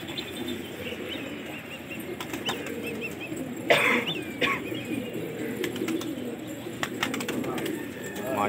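Gola pigeons kept for Lucknow-style flying contests coo softly, with a sudden burst of flapping wings midway and scattered chirps over a busy outdoor background.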